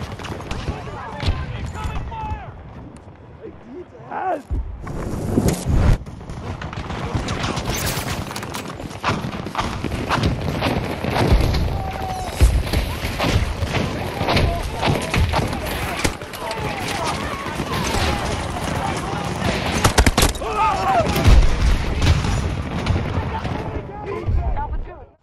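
Battlefield 2042 gunfire and explosions in a 128-player Breakthrough match, dense and continuous with repeated sharp bursts and booms, loud throughout, mixed with voices calling out over the combat.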